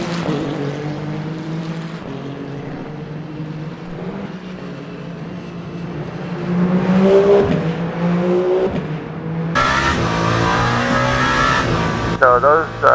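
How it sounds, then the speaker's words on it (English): Race car engine in the video game Le Mans Ultimate, rising and falling as the rear tires break loose under heavy acceleration, loud and close, then a sharper high whine near the end, with a voice talking over it. "So those rear tires are just breaking loose under heavy acceleration"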